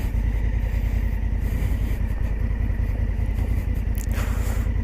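An Africa Twin motorcycle rides over rough terrain, a continuous loud, low engine rumble with a steady pulsing throb and no talking.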